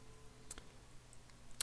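A computer mouse clicks a button on an online questionnaire: two faint, sharp single clicks spaced about a second apart against quiet room hum, with no talking.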